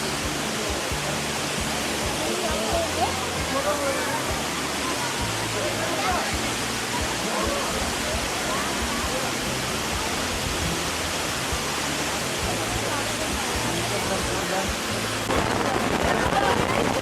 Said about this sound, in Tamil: அப்படியே வாட்டர் ஃபால்ஸ்.